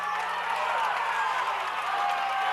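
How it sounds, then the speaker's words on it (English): A packed crowd at a high school football game cheers and applauds steadily, a dense, loud roar of voices and clapping that holds for the whole moment without breaks. "Both sides on their feet, cheering their teams on"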